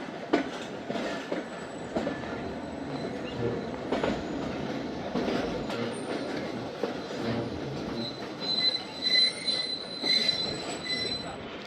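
The Khyber Mail train pulls out of Lodhran Junction, wheels squealing and carriages clattering steadily as it rolls, with high metallic screeches rising toward the end, heard from on board.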